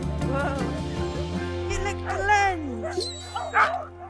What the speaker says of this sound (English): We're about to go dog sledding. The dogs are very excited.